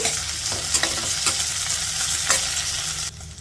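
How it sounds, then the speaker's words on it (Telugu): Coriander seeds and cumin fry on a medium flame with a loud, dense sizzle, while a utensil scrapes and stirs several times; the sound drops off sharply near the end. "ఇప్పుడు మీడియం ఫ్లేమ్లో ఇలా కలుపుకుంటూ ఒక నిమిషం ఫ్రై చేసేసుకోవాలి"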